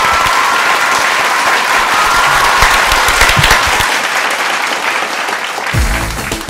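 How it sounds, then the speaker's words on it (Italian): Warm, sustained applause from a theatre audience for the Barabao company and their guests, dense steady clapping filling the space at full loudness and tapering slightly near the end. "salutiamo con un caloroso applauso i Barabao e i nostri gentili ospiti"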